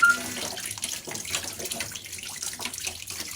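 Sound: washing wheat flour dough under running water

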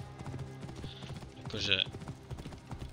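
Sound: horse (mare) hooves clip-clopping in Assassin's Creed Origins video game

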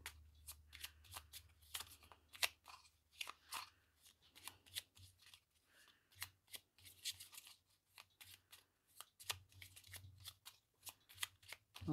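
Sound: tarot cards being handled and shuffled

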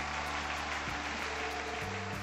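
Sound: audience applause for contestants on stage, from the video game Trails to Azure

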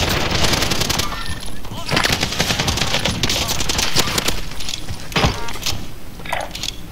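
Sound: gunfire in a video game

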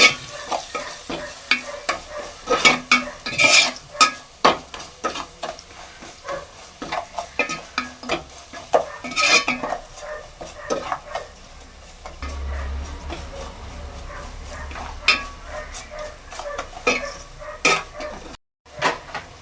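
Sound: mixing turmeric and chili powder into fish curry

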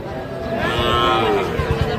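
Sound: Sahiwal bull calf at a cattle market

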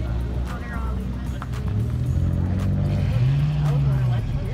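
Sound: Nissan car pulling off from a car meet

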